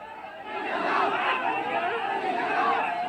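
A large crowd gathered at a funeral in Uttar Pradesh fills the air with dense, continuous murmuring chatter, many voices blending into a steady loud hubbub throughout.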